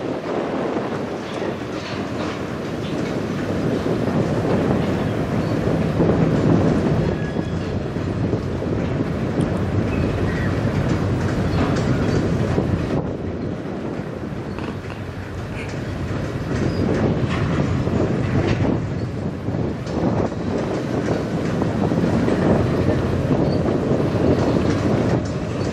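Short CN freight train rolling past in Sarnia, Ontario: a continuous broadband rumble of wheels and cars with soft clickety-clack, swelling and easing slightly as it passes at moderate distance.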